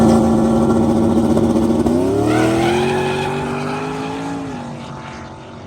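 A drag racing car making a test pass, its engine roaring loud and close, then rising in pitch as it accelerates away and slowly fading into the distance.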